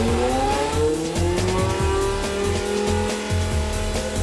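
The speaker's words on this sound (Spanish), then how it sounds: "Los motores modernos de Fórmula 1 son modelos V10 de 3 litros." A Formula 1 race car with a 3-litre V10 engine screams at high revs, loud and close, its pitch climbing steadily through the gear with a continuous harsh roar.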